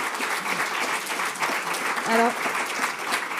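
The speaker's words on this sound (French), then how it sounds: "Vous pouvez l'applaudir, bien sûr." Audience after a presentation on indoor air quality in homes claps in a dense, even wash of applause, with a brief spoken word from a man partway through.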